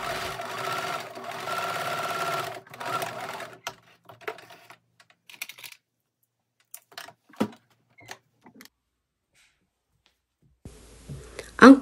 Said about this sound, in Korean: 박음질을 해줍니다.